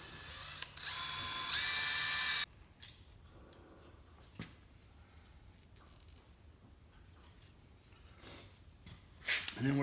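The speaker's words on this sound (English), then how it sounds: "I'm just going to go ahead and drill some small holes in here" A power drill whirs loudly in a short burst drilling small holes in a Polaris RZR 1000 XP, then stops, followed by quieter handling clicks and rustling.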